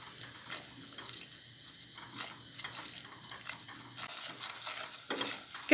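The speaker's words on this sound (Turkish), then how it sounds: "Tekrar unumuzun kokusu çıkana kadar kavurmaya devam edelim." Flour being stirred and roasted with onions in a pot, a soft continuous scraping and faint sizzle with occasional spoon taps against the pot, quiet and close, with no talking.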